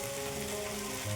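Tempering for ivy gourd and chana sukka sizzling in a pan, a continuous dense hiss and crackle up close, brief and steady with no voices.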